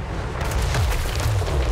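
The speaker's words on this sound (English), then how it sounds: "so they shoot a big, big cannon shot. It lands somewhere." A deep, rumbling boom of a cannon shot landing in Total War Warhammer 3, a dense sustained low roar filling the whole moment, loud and close.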